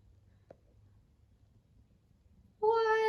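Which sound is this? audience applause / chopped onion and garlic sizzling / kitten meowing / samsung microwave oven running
kitten meowing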